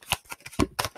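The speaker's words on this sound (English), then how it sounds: "I'm just going to pull the cards as I tell the story." Tarot cards snap and riffle in quick crisp bursts as the deck is handled close up, several sharp papery flicks spaced unevenly.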